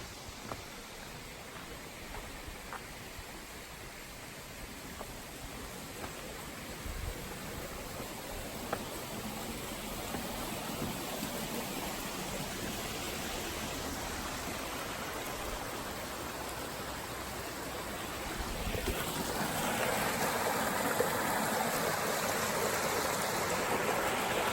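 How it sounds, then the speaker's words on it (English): A small babbling brook flows alongside a hiking trail in New Jersey, a steady soft rushing and trickling that is heard alone and grows slightly louder and brighter toward the end as the stream comes closer. "A little babbling brook here."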